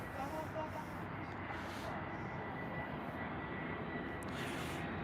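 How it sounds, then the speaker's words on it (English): An easyJet Airbus A320 jet moves slowly at an airport, giving a constant broadband engine roar that stays level throughout, with possible faint voices beneath. "EasyJet A320."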